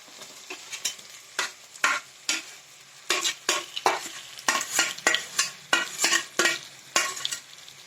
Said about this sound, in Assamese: এয়া দেখিছেনে এয়া মই ভাজি আছো এনেকৈ